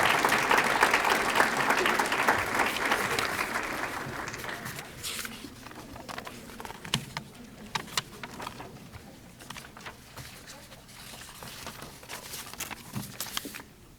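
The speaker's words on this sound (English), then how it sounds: "Let's give these students a round of applause to recognize their involvement and achievements." An audience at a culinary arts student ceremony applauds the students: loud, dense clapping for about four seconds, then it thins to scattered claps, shuffling and footsteps while a faint voice speaks.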